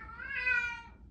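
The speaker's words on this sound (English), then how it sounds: "that was my cat having a bit of a meltdown" A house cat lets out a single drawn-out, whiny meow during a meltdown, swelling and then trailing off, close by and alone over a quiet room hum.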